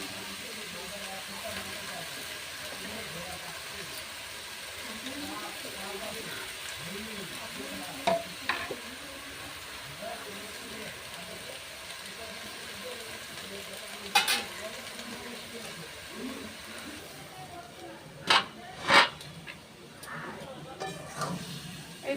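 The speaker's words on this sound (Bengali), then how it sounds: "আর দিয়ে দেবো আমি লাউ শাক।" Bottle gourd greens fry and wilt in a pan, releasing water, with a continuous hiss and steady stirring scrapes. Occasional sharp clacks of a spatula against the pan ring out, and a voice talks intermittently over the cooking.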